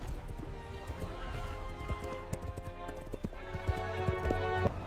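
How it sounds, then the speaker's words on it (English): Horse hooves clip-clopping in a fairy-tale setting, a steady run of sharp hoof strikes mixed with music and other layered sound, with a possible whinny. "He rode his valiant horse, Samson,"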